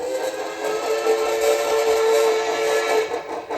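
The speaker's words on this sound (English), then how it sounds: "Right now I have the Cass Scenic Shea whistle on there" An HO-scale model steam locomotive sounds a Cass Scenic Shay whistle, a sustained, slightly wavering tonal blast heard close and continuous over a light mechanical hum.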